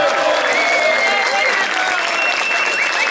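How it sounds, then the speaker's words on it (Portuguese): A live audience at a FNAC store event claps for a viola player, a loud, even burst of applause with some crowd noise, sustained throughout. "Uma salva de palmas pra ele, Wagner Bernardes!"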